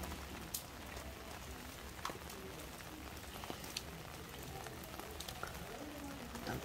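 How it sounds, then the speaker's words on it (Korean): Steady patter of rain falling on a pond at night, a dense continuous hiss with occasional brighter drips, fairly quiet and with no voices. "빗소리도 좋고."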